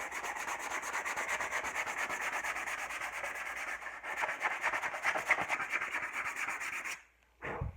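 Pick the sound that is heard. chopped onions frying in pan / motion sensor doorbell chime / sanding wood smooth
sanding wood smooth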